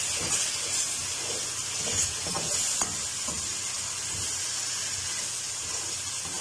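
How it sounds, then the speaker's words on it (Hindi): Ginger garlic paste sizzling as it fries in a pan, a steady close hiss with faint crackles and stirring scrapes throughout. "तीस सेकंड के लिए अदरक लहसुन को भून लेंगे अच्छी तरह"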